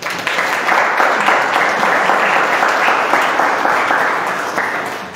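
Audience clapping at a gathering, a sustained burst of many hands that holds steady and tapers slightly toward the end, with no voices over it.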